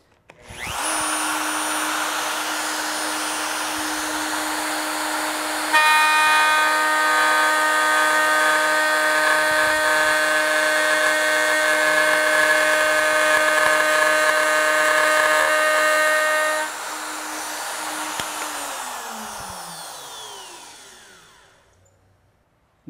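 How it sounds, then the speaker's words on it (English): Wood router fitted with a pattern-cutting bit cuts wood along a template, a loud close high whine that starts, sustains, grows harsher in tone during the cut, then spins down to silence at the end, with no talk. "Go ahead and put on our safety gear and make our cut."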